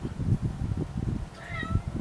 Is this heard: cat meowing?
yes